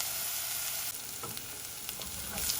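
Ingredients for a green gram dish fry and brown in a pan, giving off a steady, close hiss and sizzle with faint crackles and a brief soft stir, with no voices.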